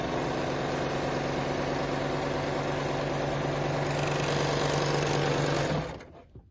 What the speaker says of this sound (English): we are going to start sewing